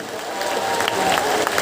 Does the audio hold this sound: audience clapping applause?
yes